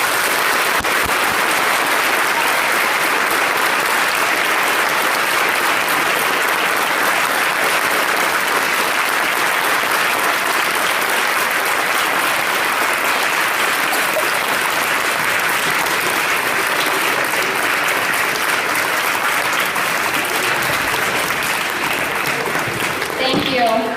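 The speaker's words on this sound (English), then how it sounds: "Please give them a warm round of applause." Sustained audience applause fills a Veterans Day graduation ceremony at a high school, a loud, dense wash of clapping that holds steady throughout with scattered crowd noise mixed in.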